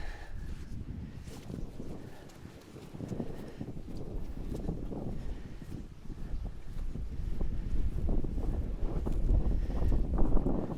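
Wind gusting across an open hilltop fence line where rotted posts hang loosely from the wire, a steady broadband rush that swells louder toward the end, with no talking.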